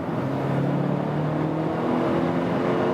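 A 2018 Mercedes GLA 220 with a petrol four-cylinder engine accelerates hard at full throttle, its loud, steady engine note climbing slowly in pitch over three seconds with no talking.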